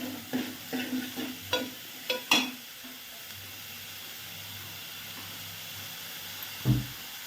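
Onion and mint frying in a pan while being stirred: a quick run of spoon scrapes and clacks at the start, then a quieter steady sizzle, and one more scrape near the end.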